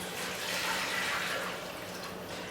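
Water pours into a crock pot for bean and bacon soup, a steady splashing hiss at moderate volume that runs for a couple of seconds.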